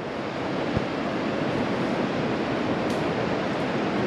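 Surf rolls in steadily at Melasti Beach in Bali, a constant broad roar of breaking ocean waves mixed with some wind buffeting the microphone, with no voices.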